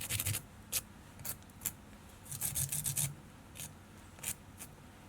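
Velcro on a lollipop stick rubbed against an ice dub body on a Woolly Bugger fly, close, quiet rasping scratches in short irregular strokes, no talking.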